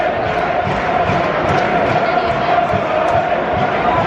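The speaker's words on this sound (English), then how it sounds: "the crowd doing their best to keep it lively." A football crowd at a Wolves away match makes a dense, steady roar of voices and cheering that stays loud and even throughout.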